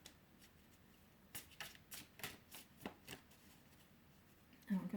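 Tarot cards are shuffled by hand in quiet, close bursts, a series of soft riffling flutters repeating at an irregular rhythm, with a louder rustle at the end.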